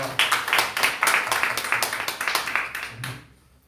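A church congregation claps together in a service, producing a run of fairly regular, close claps that fade out at the end.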